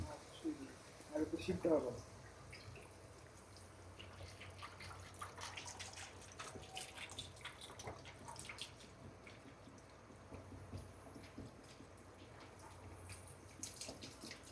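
Water pours steadily into a cooking pot, a faint splashing trickle with people talking quietly over it.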